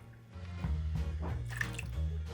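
Water poured from a glass into a small pot holding chicken breast pieces, a close, steady splashing trickle with a few drips, running alone for about two seconds.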